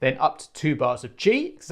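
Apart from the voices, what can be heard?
No everyday noise stands out behind the speech.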